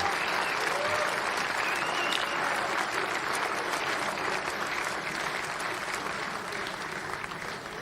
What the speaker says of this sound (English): we salute them with a big round of applause